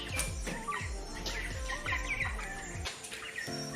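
Many young poultry birds, about five weeks old, cheep and peep in a continuous high chatter inside a shed, close by, with a steady rhythmic mechanical thumping underneath.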